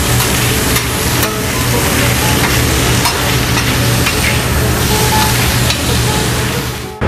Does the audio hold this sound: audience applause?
no